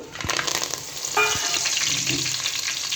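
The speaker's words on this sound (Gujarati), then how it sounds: "ત્યારબાદ લીલો લીમડો અને સૂકું લાલ મરચું છે તે એડ કરી દઈએ" Curry leaves and dried red chilli hit hot oil with cumin for a tempering, giving an immediate loud crackling sizzle that flares after a couple of sharp pops and keeps fizzing steadily close up.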